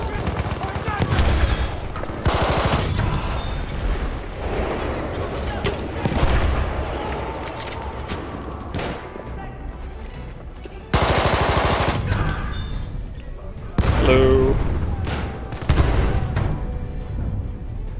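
Rapid bursts of SMG 08/18 submachine gun fire in the Battlefield 1 shooter, loud close-range fusillades with brief gaps between volleys, mixed with other battlefield gunfire and occasional voices.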